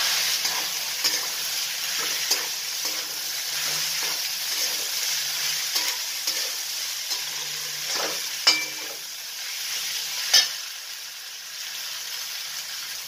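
Chopped vegetables cooking in a pan with a continuous soft sizzle, occasional stirring clinks and scrapes, close and without talk.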